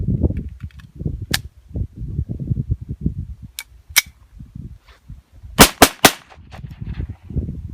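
A Bruni P4 9mm replica of the Beretta P4, prone to jamming at the feed ramp, fires several loud, sharp cracks. Scattered single shots come first, then a quick close cluster of three reports over a low background rumble.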